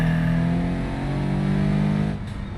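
A car in a racing video game drones with a loud, steady engine note held at high revs. The sound drops off abruptly near the end as it passes by.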